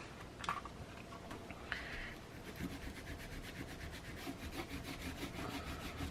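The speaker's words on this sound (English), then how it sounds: "With my handy dandy glue eraser" Glue eraser rubbed back and forth over paper in a craft project, a soft, close scratchy rubbing with a quick repeated stroke rhythm throughout, quiet and alone.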